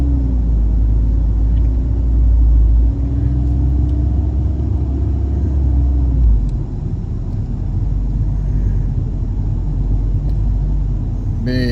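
A car driving through a residential neighborhood in Minnetrista, Minnesota, heard from inside as a loud, steady low engine and road rumble that continues throughout.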